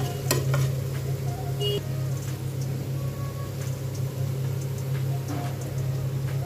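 Potatoes sizzle steadily as they fry in a pan, with a few sharp scrapes of stirring over the continuous, close, fairly loud hiss.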